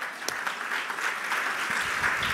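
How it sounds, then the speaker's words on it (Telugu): A church congregation applauds together in steady, dense clapping that fills the room, with no speech over it. "చప్పట్లు గట్టి కొడదామా?"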